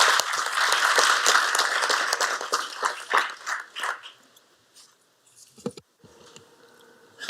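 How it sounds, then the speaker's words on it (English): Audience applause at a municipal council meeting, dense clapping for about four seconds that thins into scattered claps and fades out. "Let's have a round of applause for"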